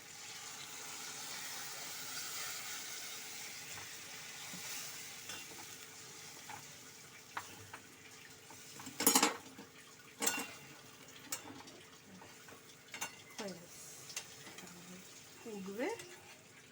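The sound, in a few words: pouring milk-soaked paneer into frying poppy seed and cashew paste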